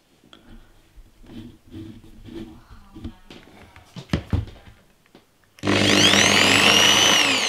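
A Doliz BA670 impact drill spins up after a few seconds of quiet handling clatter and knocks, then runs with a loud, steady whining motor hum with a high tonal whine that continues to the end.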